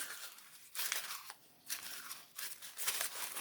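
Craft paper being crumpled and wrinkled by hand at a crafting table, bursts of crisp crinkling and crunching in several close, loud spells with brief pauses between them, no talking.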